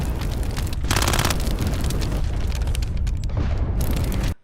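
In a war film with Russian troops, a grenade blast disables a tank: heavy, close booming explosions with rumbling low end and sharp crackling bursts layered over dense battle noise, ending abruptly.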